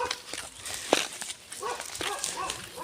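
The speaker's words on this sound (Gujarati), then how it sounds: "કૂતરા ભણાય છે" Out on a farm, a dog gives several short yips and barks at moderate distance, scattered irregularly over low background noise.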